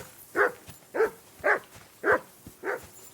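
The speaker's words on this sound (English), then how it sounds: "I assume you can hear that damn dog of yours barking." A dog barks in the medieval role-playing game Kingdom Come: Deliverance II, five evenly spaced, fairly close barks at a steady rhythm over a quiet background.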